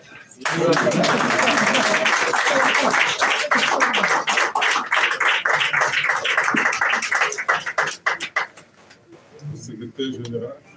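A crowd claps loudly and steadily for several seconds, the applause thinning out toward the end before a voice speaks.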